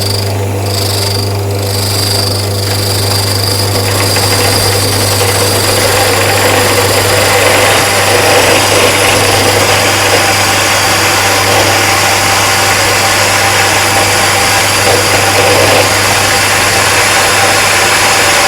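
An MKS GRD 1500 grinding mill for grain, spice and herbs runs continuously with a loud, steady motor drone and a dense grinding rush, unchanging throughout and without talk.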